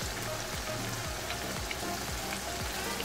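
Mince frying on a stove with turmeric, a steady soft crackling sizzle with no voices, and a repeating low pulse running under it.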